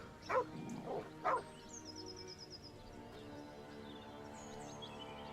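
A dog in the video game Baldur's Gate 3 gives a few short yips and whimpers near the start, followed by quieter game ambience with faint bird-like chirps.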